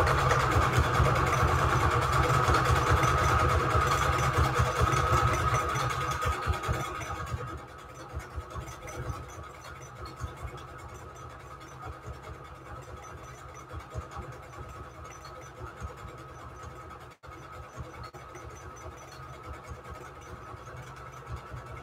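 A sewing machine runs with a steady, loud mechanical hum for about seven seconds, then stops, leaving a quiet room with a few small clicks and bumps.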